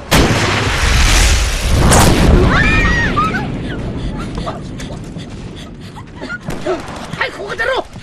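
Artillery shells burst in a war battle scene from the 2015 film about the Hundred Regiments Offensive. Loud, dense booms and rolling rumbles fade into scattered gunfire and sharp cracks, with shouting voices breaking through.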